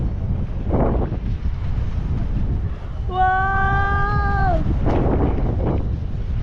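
Strong wind roars across the microphone while parasailing, with a brief tonal horn-like wail in the middle and a short exclaimed voice.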